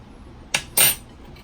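Two sharp clinks and scrapes of a utensil against a mixing bowl while cream cheese, powdered sugar and vanilla are mixed into a filling, the second knock louder and longer.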